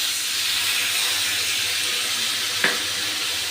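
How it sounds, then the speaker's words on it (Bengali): Spiced water rinsed from a bowl is poured into a pan of frying masala for a Bengali hilsa fish and red amaranth dish, setting off a steady loud sizzle and hiss with one brief sharp splash near the end. "এবার আমি বাটি ধোয়া মশলার জলটা দিয়ে দেবো।"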